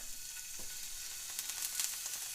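Garlic, onions and peppers sizzle in a hot pan, a steady bright frying hiss that swells slightly near the end, with a faint stir or clink partway through and no talking.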